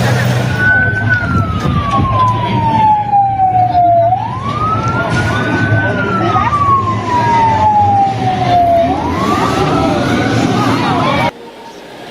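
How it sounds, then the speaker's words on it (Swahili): A fire engine siren wails in long rising and falling sweeps, loud and fairly close, during a school fire in Kenya, with traffic rumble beneath it until it cuts off abruptly near the end. "Tulianza kusikia zimamoto ikikimbia huku na pale"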